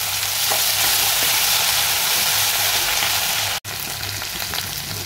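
Crushed green chili and coriander go into hot oil and sizzle loudly and steadily, a dense hiss close by with a low hum beneath and one brief dropout near the end.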